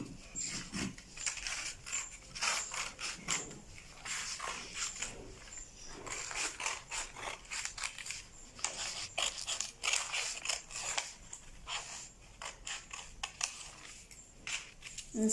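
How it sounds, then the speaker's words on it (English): Scissors snip through dress fabric to cut a front armhole, producing a steady run of close, crisp cutting crunches and rustles with brief pauses, fairly quiet overall. "Then we'll cut the front armhole."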